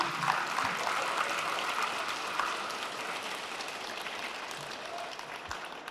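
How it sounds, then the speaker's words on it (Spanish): A church congregation applauds Jesus in steady, dense clapping, a continuous wash of many hands at even loudness from start to finish, with no voices over it. "Fuertes aplausos al Señor Jesús."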